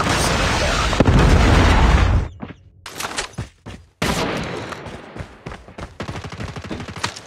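A predator missile strike in Call of Duty Mobile lands as a loud, sustained blast roaring for about two seconds, followed by scattered sharp gunshots and bursts of battlefield fire, then a second heavy impact rumbling into more crackling shots.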